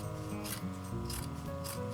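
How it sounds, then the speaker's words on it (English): Old junky scissors trimming a fabric seam inside a cosmetic bag, three quick soft snips in a row over a steady background hum, close and fairly quiet. "find your junkiest scissors, and you want to trim this"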